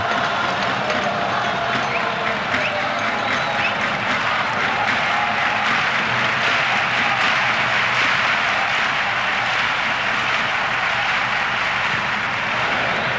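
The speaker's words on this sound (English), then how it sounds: "the crowd almost ticked the roof off with this shot whipped in suddenly" A packed indoor arena crowd at the 1996 Futsal World Cup final in Spain, Spain versus Brazil, roars after a sudden shot: a dense, sustained wash of cheering and noise that holds steady throughout.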